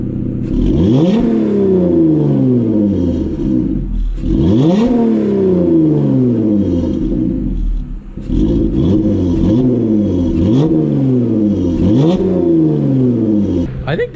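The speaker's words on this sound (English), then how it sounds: "I'm going to go ahead and hit the throttle now so you get an idea how it sounds when it revs up." Jeep Gladiator V6 with a tuned aftermarket exhaust revved repeatedly from idle, loud, close rising-and-falling engine sweeps in a steady rhythm with no talk over them.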